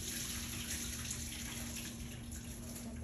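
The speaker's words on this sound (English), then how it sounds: "pour them in the colander" French fries and water pour into a colander in a kitchen sink, a soft continuous splashing and trickle, faint and steady with no voices.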